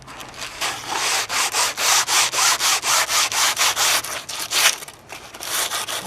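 Close, steady back-and-forth strokes of 60 grit sandpaper rubbing over a wooden oar blade, about a dozen even rasping passes in a regular rhythm with no talking.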